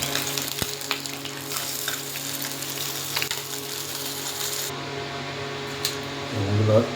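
Pieces of tora fish fry in hot oil with a steady, continuous sizzle and crackle, close and fairly loud, with a brief clatter near the end.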